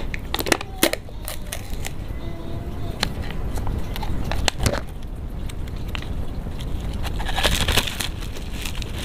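Crunchy ghost paper noodles and potato chips being eaten up close, with repeated sharp crackling crunches and bites over a steady background.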